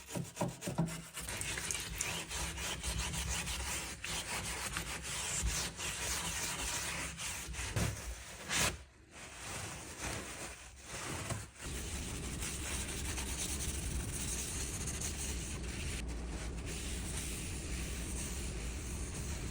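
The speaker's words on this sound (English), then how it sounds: "I'm just be going in with acetone and a wire brush to get all of that little detail nice and clean" A wire brush scrubs acetone into detailed wood furniture with dense, continuous rasping strokes. The scrubbing runs close and steady, with a few brief pauses, and no one speaks.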